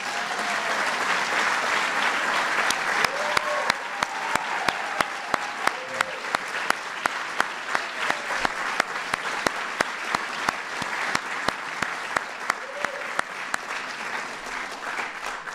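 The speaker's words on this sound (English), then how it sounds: "Give Frank a big round of applause" A large audience applauds Frank at a Special Olympics celebration, sustained dense clapping throughout with a few sharper individual claps and some faint voices underneath.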